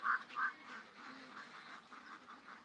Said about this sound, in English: Why are these ducks?